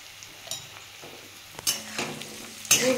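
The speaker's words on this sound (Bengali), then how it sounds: "আমি পেঁয়াজটা রসুনটা ভালো করে ভেজে নেব, লাল লাল করে" Onion and garlic fry in a pan with a little turmeric for a ripe pointed gourd mash, a soft sizzle broken by clinking stirs of a utensil against the pan, growing busier toward the end.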